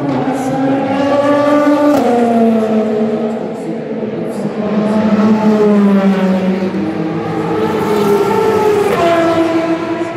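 The Ferrari race car number 51 at the Le Mans 24 Hours passes with a loud engine, its pitch rising and falling through gear changes over about ten seconds, with no speech.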